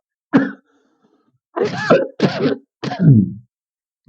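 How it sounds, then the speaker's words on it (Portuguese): Several harsh coughs and throat-clearing bursts, close and loud: one short cough, a pause, then three more in a quick uneven cluster. "a tosse está insistindo"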